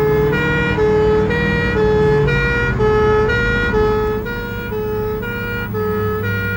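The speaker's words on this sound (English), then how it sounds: "Two pump engines race to an exercise at a domestic house fire." Two pump fire engines race with loud two-tone sirens wailing in a steady alternating pattern over a heavy engine rumble, close and continuous.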